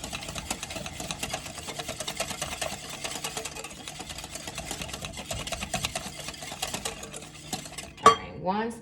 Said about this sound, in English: Give it a good whisk. Make sure that it's incorporated. It's gonna be a pretty wet batter.